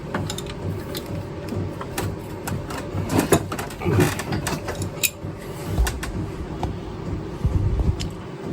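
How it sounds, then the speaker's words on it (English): Mechanical work on a 2005 Chevy Equinox 3.4L engine while a heater hose is pulled off: close, irregular clicks, scrapes and rattling knocks of tools and parts, with a few louder clunks midway, no talking. "Now we're going to go ahead and actually take this heater hose off."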